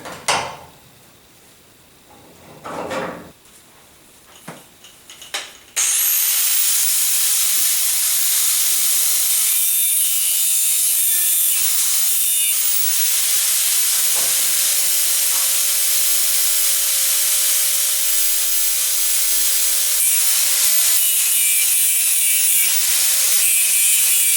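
A power tool trims a fitted part on a 1967 Ford F100. After a few seconds of quiet handling and knocks, a loud, harsh, continuous grinding hiss starts abruptly and carries on close up to the end.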